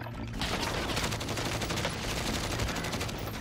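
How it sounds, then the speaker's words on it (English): Dense, sustained gunfire from the Warzone battle royale shooter with its zombie mode: rapid overlapping shots that sound like machine-gun bursts, loud and continuous throughout with no voice over them. "Yeah, he's shooting me."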